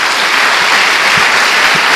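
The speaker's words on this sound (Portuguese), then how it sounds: "Dá uma salva de palmas ao Senhor." Loud, sustained applause from a church congregation giving praise to the Lord, a thick continuous roar of many clapping hands close by, with no talk over it.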